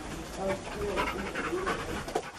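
A narcotics detection dog pants rapidly and close during a police raid on houses, with quick rhythmic breaths and some background voices mixed in.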